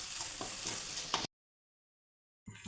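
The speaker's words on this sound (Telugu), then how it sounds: "మనం వేసిన అల్లము పచ్చివాసన పోయేదాకా వేపుకోవాలి" Ginger garlic paste frying in a pan with salt, stirred and crackling softly for about a second before cutting to silence, then the sizzle returning briefly at the end.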